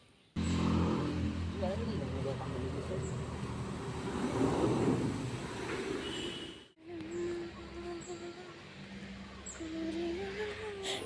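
A car approaches along a road, its engine noise rising into a broad rumble that swells midway and then settles, while people talk nearby throughout.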